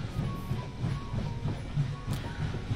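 A train rolls along in the H3VR virtual reality game, with a steady low rumble and a rhythmic clickety-clack of wheels over the rails, continuous and moderately loud with no voices.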